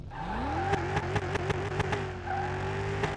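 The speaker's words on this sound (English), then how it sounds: "Listen to that engine rumble on the track." Mayen M8 engine in Car Mechanic Simulator 2021 revving up on a track, a rising engine tone punctuated by a rapid series of sharp gear-shift bursts, then holding a steady high drone.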